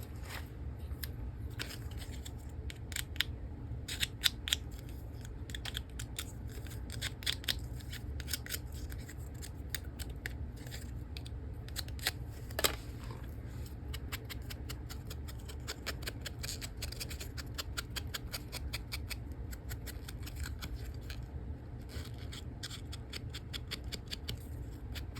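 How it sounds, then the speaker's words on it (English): Scissors snip paper and embellishments for an art journal page, quick irregular cuts repeating close and clear over a soft steady background hum, with no talking. "Need my other scissors."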